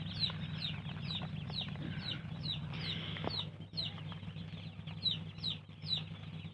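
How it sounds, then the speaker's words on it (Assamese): Local ducklings at a hatchery, many of them crowded together and being packed for transport, give a constant chorus of high, thin peeping over a low background hum, fairly quiet and steady. "কিমান ধুনীয়া হাঁহৰ পোৱালি"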